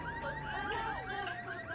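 A car alarm blares in Grand Theft Auto, repeating a loud warbling, cycling electronic wail steadily through the whole stretch with no talk over it.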